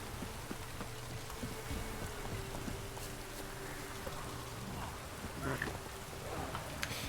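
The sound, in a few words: drizzling rain in the video game Witcher 3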